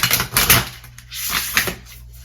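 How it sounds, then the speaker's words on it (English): Rapid papery riffling of tarot cards being shuffled, in several quick bursts with brief pauses between, close and fairly loud. "Shuffle your cards and really like, get them going"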